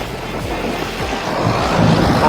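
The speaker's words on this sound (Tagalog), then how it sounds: "Parusa yung hangin." Strong wind buffets the microphone during an Audax 200 km cycling event in Ilagan, Isabela, a loud, steady broadband roar with low rumbling gusts that builds toward the end.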